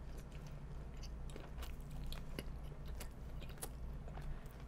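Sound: chewing and biting a Burger King hot dog

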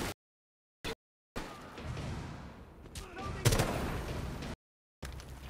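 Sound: gunfire in Rainbow Six Siege video game

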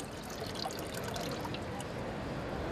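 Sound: water being tipped out of a filter bottle

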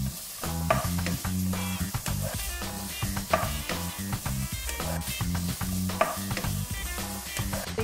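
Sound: gently mixing seasoned zucchini with garlic, green onions, sesame oil

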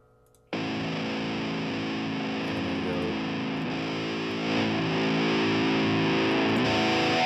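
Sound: metal rhythm guitar tone through Pod Farm amp simulator

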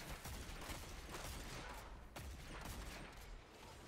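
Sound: gunshots in video game Dead Man's Tale

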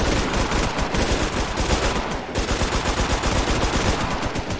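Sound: gunfire during a gang shootout in MTA roleplay video game

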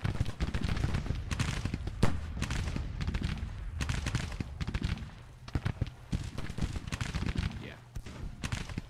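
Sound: gunfire in Grand Tactician video game battle

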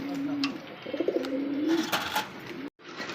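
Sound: pigeons cooing

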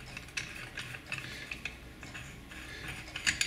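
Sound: tightening a bearing puller on Stihl hedge trimmer

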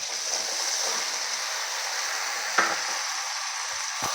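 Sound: ridge gourd stir-frying in oil with spices

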